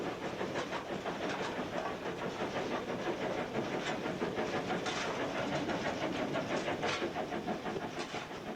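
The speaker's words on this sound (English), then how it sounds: "The engine beats faster as it works harder, climbing, doing more work," Steam locomotive working hard on a climb, its exhaust beating in a steady fast rhythm over continuous rumbling, clanking running noise, loud and close with no talk.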